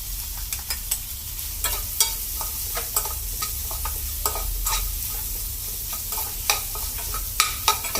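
Crushed garlic, cumin and green chili sautéing with softened tomato for poondu milagu rasam: a steady close sizzle broken by frequent scraping spatula strokes in an irregular rhythm, with no voices.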